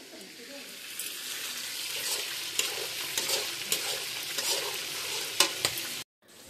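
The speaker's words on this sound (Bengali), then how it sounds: "আর আমি এখান দিয়ে তো রোস্টের জন্য মাংসটি ভেজে ভালো করে" Meat frying for a roast, a continuous close sizzle with repeated stirring scrapes and clacks that cuts off abruptly near the end; a faint background voice may be present.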